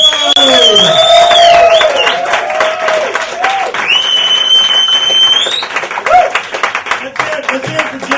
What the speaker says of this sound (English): Let's get the whooping and cheering going for the one and only, the amazing Mr. Scott Capello!